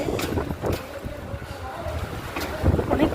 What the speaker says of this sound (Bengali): অনেক বৃষ্টি বাতাস হচ্ছে, তারপরে বৃষ্টি হচ্ছে।